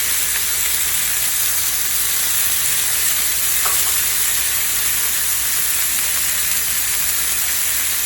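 Chicken tawook kebabs sizzle steadily on a grill heated to about 425 degrees, a loud, continuous frying hiss with no pauses and no voices.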